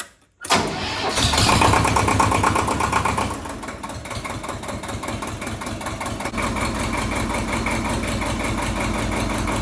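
A Ford 1700 tractor's diesel engine cranks briefly after its glow plugs are heated, catches and settles into a loud, steady, close-up idle with a rhythmic knock, running alone without talk.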